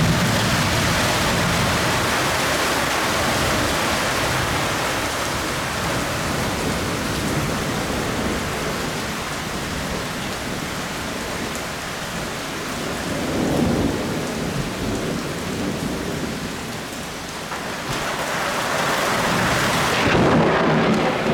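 Heavy rain pours down in a thunderstorm, a loud, dense roar of rainfall with rolling thunder swelling in the middle and again near the end, and no voices.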